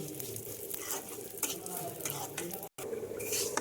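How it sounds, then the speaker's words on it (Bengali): Moong dal frying in hot oil while being stirred, with a constant close sizzle and hiss plus soft scraping strokes, steady throughout except for one brief dropout. "তেলটা গরম হয়ে গেছে, তাই মুগ ডালগুলো গরম তেলের মধ্যে দিয়ে দিলাম"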